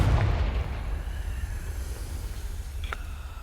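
In Hogwarts Legacy, a Confringo spell explodes in a heavy, booming blast at the start, then fades into a low rumbling tail, with a faint bright chime near the end.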